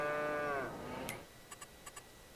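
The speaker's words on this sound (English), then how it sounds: "So we've got some cows in here." In a barn in Farming Simulator 22, a cow gives one drawn-out, falling moo, followed by a few faint ticking clicks over low ambient noise, with no talk.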